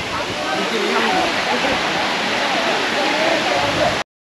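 Clear water rushing steadily in a stream on a trip to Anachadikuthu waterfall, a loud, broad, continuous wash held at constant strength, close by, with no pause until it cuts off abruptly.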